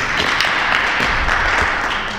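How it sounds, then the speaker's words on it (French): Church congregation applauding in praise, a dense, steady wash of clapping from many hands at moderate loudness, continuing evenly without talk. "On applaudit le Seigneur pour ça."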